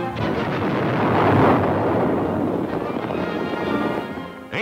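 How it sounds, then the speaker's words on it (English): An old newsreel captures a battleship's magazines exploding, a loud sustained roaring blast that swells then slowly decays, muffled and noisy like archival film sound. "Hundred men perish when the magazines explode."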